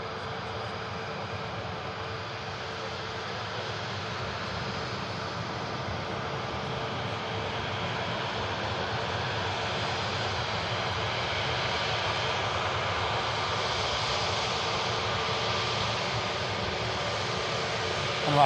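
TUI and Ryanair airliners taxiing out at an airport, producing a steady whine and rumble that swells gradually toward the end, heard from a moderate distance.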